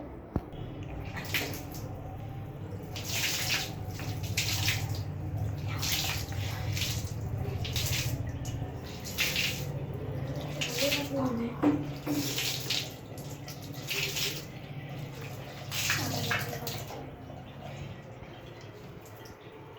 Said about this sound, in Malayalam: ഇത് നല്ല ഒരു ഫോഴ്സിൽ വരുന്ന വെള്ളത്തിൽ നമുക്കിതൊന്ന് ക്ലീൻ ആക്കി എടുക്കാം പൈപ്പിൻ്റെ ചോട്ടിൽ വെച്ചിട്ട്